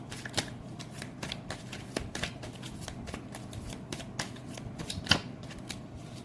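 Tarot cards shuffled during a reading, giving a steady run of close, crisp riffling slaps and flicks with one sharper snap near the end and no voice over it.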